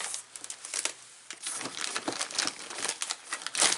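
Plastic bags crinkle and rustle up close as a Farmertec 365/372 chainsaw parts kit is unboxed, a busy, uneven crackling with short pauses and no talking.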